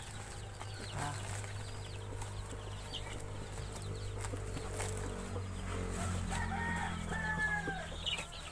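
Native chickens cluck and call faintly in a backyard in Carmen, Bohol, over a low steady hum, with scattered clicks and a few higher squawks toward the end.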